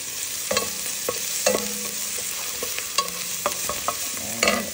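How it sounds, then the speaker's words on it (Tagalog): Garlic and ginger sizzle in a hot pan for chicken sinigang, with a steady frying hiss and repeated stirring scrapes and clinks as a utensil moves through the pan. "Dahil luto na, medyo luto na yung ating luya, lagay naman natin yung bawang, garlic."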